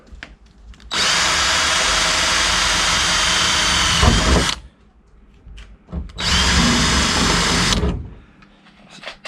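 A power drill runs loud and close in two long bursts, drilling a pilot hole in a Toyota MR2 for a spoiler, whining steadily for a few seconds each, with a short pause between.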